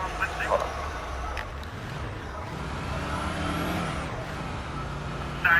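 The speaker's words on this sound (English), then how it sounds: "They updated the engine sound effects for all the squad cars" A steady police car engine sound effect from a video game drones throughout, low and continuous, with faint speech-like sounds and a brief louder burst near the end.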